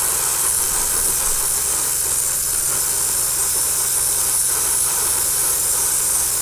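Light coats of paint sprayed onto a Tamiya 1/35 Sturmpanzer IV Brummbär model kit, a steady continuous airbrush-style hiss that holds evenly throughout with no talking over it.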